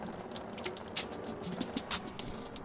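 Coolant drains and drips from a car during an LS VTEC turbo engine install: faint, irregular splashes and small trickling drops, close by and without voices.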